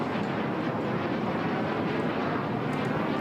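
An HAL Tejas fighter jet makes a low-speed pass at an air show, its engine a steady, broad roaring rush that holds even and loud throughout.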